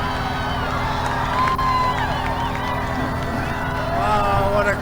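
Large crowd at a Donald Trump rally in Fayetteville, North Carolina, cheering and whooping continuously in a dense, reverberant roar, with shouts rising and falling throughout.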